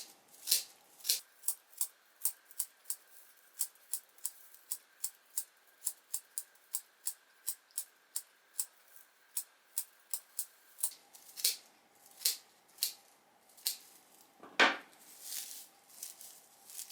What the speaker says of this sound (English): come back with scissors and trim them all even on the sweep end of the broom.